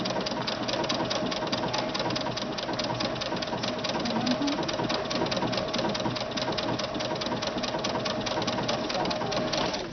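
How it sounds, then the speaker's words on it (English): A sewing machine with a regular presser foot stitches down fringe loops, its steady rapid needle chatter running continuously and fairly loud throughout, with no voices. "I want to just take the bean stitch at the very top of one of those loops, one side, and stitch those loops down"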